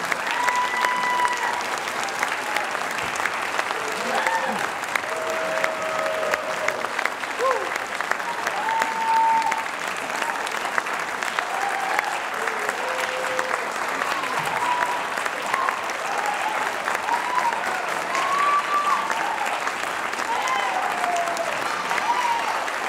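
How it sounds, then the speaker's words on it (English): Sustained applause from a school concert audience welcoming a high school treble choir onstage, steady dense clapping throughout with a few faint tones and voices mixed in. "And we keep clapping until the last student is on the line."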